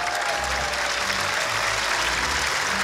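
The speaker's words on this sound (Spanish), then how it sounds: "un fuerte aplauso para comenzar" A crowd applauds loudly and continuously at the final of a live dance battle, with dense, even clapping that fills the room from start to finish.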